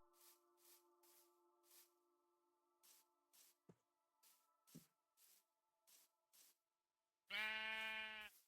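Near the end, a person voices a loud, wavering bleat imitating a sheep, following a quiet stretch of soft periodic whooshes and a steady tone from Minecraft gameplay.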